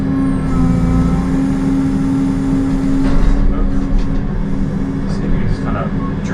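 A land clearing machine's engine drives out of a hole with a loud, steady, rumbling drone that swells slightly partway through and keeps going throughout.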